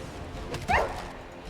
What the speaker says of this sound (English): it looks like Valerie has 2 gigantic guard dogs